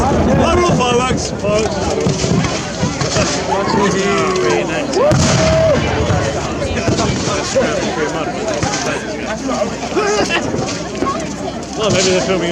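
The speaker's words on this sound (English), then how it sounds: "Fireworks!" Fireworks going off at the Lewes bonfire night celebration: a dense, continuous barrage of bangs and crackles with whistling rises, loud and close, while voices talk over the noise.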